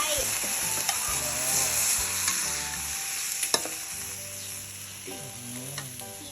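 Sunflower sprouts stir-fried with oyster sauce and a pinch of shrimp powder sizzle steadily in a hot pan, with close scraping and stirring strokes and a few sharper clacks of the spatula against the pan.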